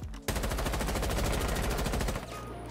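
Sustained automatic rifle fire in Rainbow Six Siege, one loud, close, rapid continuous burst lasting a couple of seconds with evenly spaced shots, then a brief tail of echo.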